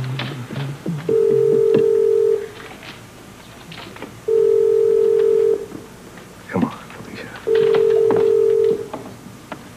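A landline telephone dialed to call someone at home, three long steady touch-tone beeps at regular intervals, loud and clear, with faint background sounds between them.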